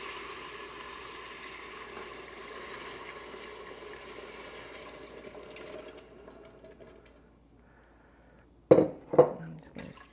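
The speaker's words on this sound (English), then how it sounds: "I'm just going to stir that around." Water and grits stirred in an Instant Pot, a soft swirling slosh that fades to near silence, followed by a few sharp clinks of a utensil against the pot's rim.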